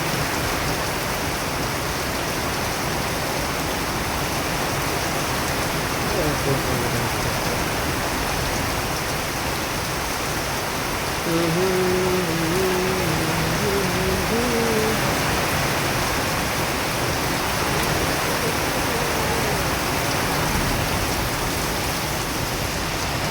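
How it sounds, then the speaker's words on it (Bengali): Heavy rain pours down steadily in a city street, a dense unbroken roar of water close by that barely changes over its whole length, with no talking. "প্রচণ্ড জোরে বৃষ্টি হচ্ছে।"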